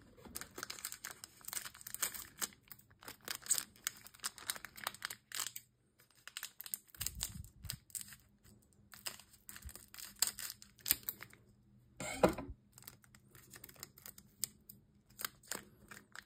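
Left-handed scissors snip and slice open foil Pokémon card packs, giving a run of close, crisp cutting and crinkling bursts with short pauses between them and no talk.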